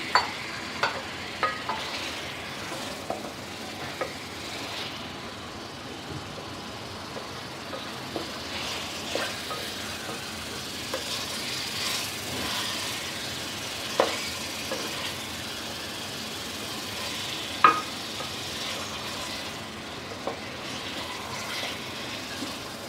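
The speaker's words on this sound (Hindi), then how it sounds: "अब हम इसमें चिकन डाल के चिकन को अच्छी तरह इसके साथ फ्राई करेंगे" Chicken pieces fry in chili paste in a pan for an aloo gosht curry, giving a steady sizzle. Frequent stirring scrapes and clicks from a spoon break through it, close and continuous, with no talking.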